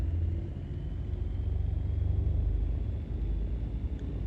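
Right engine of a Beechcraft Baron 58 idling at about 1000 RPM, a steady low rumbling drone that holds close and even throughout with no talk over it.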